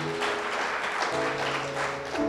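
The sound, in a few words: applause in a church service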